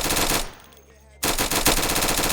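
Rapid automatic gunfire from a low-recoil gun in a Roblox game: a dense, loud burst of shots, a brief pause with a fading tail, then another fast burst.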